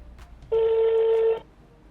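A single sustained tone from a telephone line on an outgoing call, steady and clear for about a second with nothing else around it.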